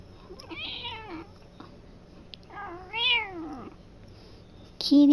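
Cat meowing inside the video game Red Dead Redemption 2: a few drawn-out, rising and falling meows spaced across a few seconds, fairly close and clear over a low game background hum, ending with a louder burst of sound.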